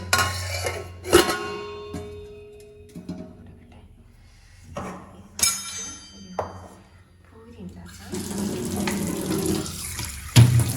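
A kitchen tap runs over a vessel being washed in a sink, with water splashing and clinking in bursts and a steadier stream near the end, plus a voice talking in places.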